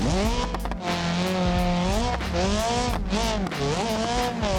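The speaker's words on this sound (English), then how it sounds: "Just gonna hold the e-brake the whole way." A drift car in the BeamNG racing game slides with the e-brake held, its engine droning loudly and steadily with rising and falling pitch and tire squeal throughout, no voices.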